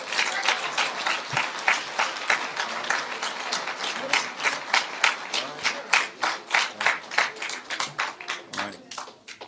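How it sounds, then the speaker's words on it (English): An audience applauds to welcome minister emeritus Abdul Wazir Muhammad onto the stage, with crisp, fairly rhythmic claps that grow more regular and pulse steadily, with some voices underneath. "Bring him on with a round of applause"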